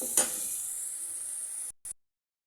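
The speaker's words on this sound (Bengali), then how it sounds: "আস্তে আস্তে শুধু ভাজতে হবে, তো চুলা কমিয়ে দিয়ে ভেজে নিতে হবে।" Prawns fry slowly over low heat, a steady hissing sizzle close by that holds evenly for under two seconds, then cuts out abruptly after a brief final burst.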